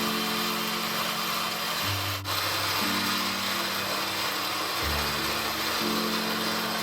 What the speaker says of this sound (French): on a donc mixé, on a incorporé tout le restant de notre fumée à notre mixage d'abat